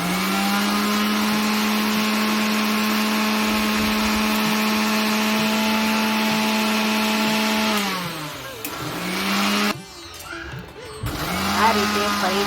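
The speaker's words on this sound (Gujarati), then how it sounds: "બધું જ ધાણા જીરુંને સરસ એવું મિક્સરમાં ગ્રાઇન્ડ કરી લેવાનું છે" A kitchen mixer grinder whirs steadily and loudly as it grinds coriander and cumin seeds into powder, then briefly cuts out and starts up again near the end.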